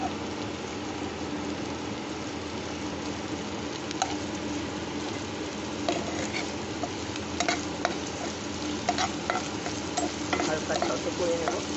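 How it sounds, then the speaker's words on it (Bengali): Cabbage sautéed in a pan for Manchurian, with continuous stirring and scraping over a steady sizzle and a low background hum, no talk. "হালকা সতে করে নেব।"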